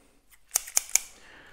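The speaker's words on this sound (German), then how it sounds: "wir schneiden jetzt unseren ersten Steckling" Scissors snip a Syngonium stem cutting, three crisp, quick clicks close together, quiet and close, with no talk.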